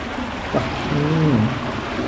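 Water flowing steadily through an irrigation channel fed from a dam in a Madurai village, a constant rushing wash with a brief voice-like sound over it.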